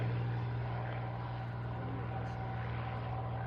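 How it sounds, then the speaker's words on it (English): A Hawker Sea Hurricane from the Shuttleworth Collection getting airborne at an Old Warden race day, a loud, steady piston-engine drone with a low harmonic hum throughout. "The Shuttleworth Collection Sea Hurricane getting into the air."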